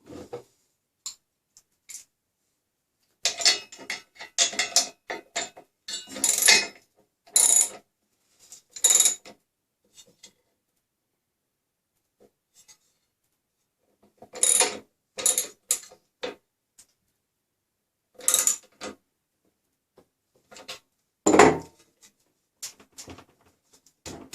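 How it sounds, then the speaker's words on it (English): A Harbor Freight 10-inch drill press has its table bolt loosened with a wrench and the table swung around, giving scattered metallic clicks, scrapes and clunks in short bursts with quiet gaps between. "to loosen the bolt here, and then you can swivel the table all the way around"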